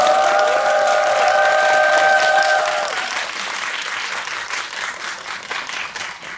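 Loud, dense applause fills a cinema hall as a film director and two actors walk onto the stage for an audience talk at CGV Yongsan, with a sustained musical tone at first, then clapping tapering off.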